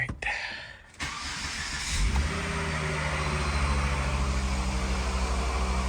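A Volvo S40 T5 starts up: a brief crank, then the engine catches and settles into a steady, close idle rumble.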